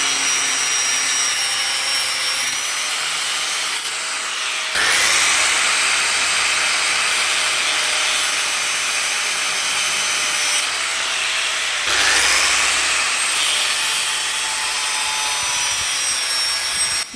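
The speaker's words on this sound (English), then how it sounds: "Here's the grinder cutting through a metal pipe with ease." A Parkside PPWS 125 A1 angle grinder cuts through a metal pipe, giving a steady, loud abrasive whine and rasp that swells in two stronger bursts as the disc bites, continuous throughout with no talking.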